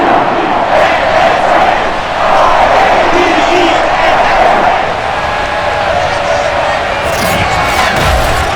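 Stadium crowd in Madden NFL 22 at a Baltimore Ravens home game against the Denver Broncos, a loud, continuous roar of cheering fans that fills the whole stretch with steady volume.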